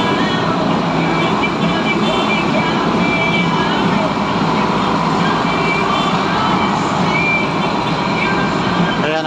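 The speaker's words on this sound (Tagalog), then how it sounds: "Pumasok na yung truck ko. Ito yung naghahakot mga workers na truck." A truck carrying workers pulls into a flyover construction site where girders are being installed, its engine giving a loud, steady rumble that runs unbroken throughout amid busy road noise.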